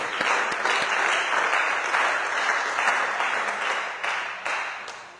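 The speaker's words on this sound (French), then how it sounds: "Acclamons très fort le Seigneur." Church congregation at a service applauding, a sustained roomy wash of many hands clapping that swells and eases over several seconds.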